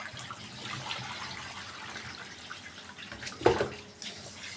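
Vegetables are washed by hand in a basin of water in a home kitchen, with soft continuous sloshing and one sharper splash near the end, close and fairly quiet, with no talking.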